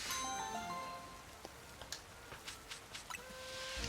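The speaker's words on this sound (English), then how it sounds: "They got you working out in the rain." Rain falls in the video game Pokémon Legends: Z-A as a faint, steady hiss. Soft scattered drip ticks sit on top of it, alongside thin tonal chimes from the game.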